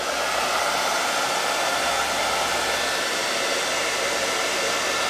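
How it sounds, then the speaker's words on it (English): A hair dryer blows in a steady, loud whoosh from start to finish, with no other sounds over it. "So I'm going to kind of use the hairdryer a little bit"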